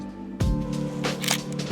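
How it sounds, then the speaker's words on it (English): Camera shutter clicks, a few sharp mechanical snaps spaced irregularly over a steady tonal musical background. "they're getting weirdly excited about a shutter sound"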